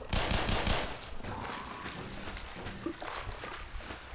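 Rapid automatic gunfire in Black Mesa, a loud, dense burst of shots at the start that gives way to lower, continuous game noise and scattered impacts.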